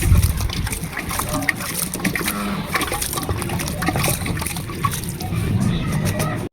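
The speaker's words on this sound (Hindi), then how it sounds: "अब मैं हाथ पैर धो लेता हूँ।" Water splashing and trickling as someone washes their hands and feet after sweaty work, an up-close steady run of sloshing and pouring with small splashes and some background noise.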